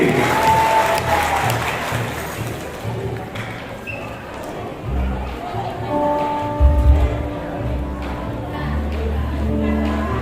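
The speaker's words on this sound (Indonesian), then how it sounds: "Tepuk tangan sekali lagi untuk wali kota kebanggaan kita, Bapak Haji Muhammad Rudi" An audience at an installation ceremony in Batam applauds the mayor with sustained, dense clapping, and voices are heard over the applause.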